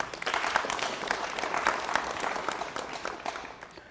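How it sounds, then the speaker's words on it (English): A crowd applauds steadily for a few seconds, the clapping dense and close, slowly fading at the end. "Give yourselves a round of applause for starting."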